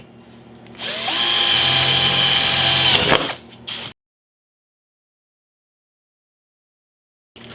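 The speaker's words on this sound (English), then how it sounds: "So we're going to drill a hole right here." A power drill bores a hole into wood during cabinet building, whirring loudly and close for about two seconds, winding down with a brief rattle and short tail, then silence.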